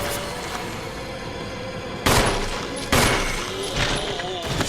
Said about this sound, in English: did I really shoot the zombie's head off?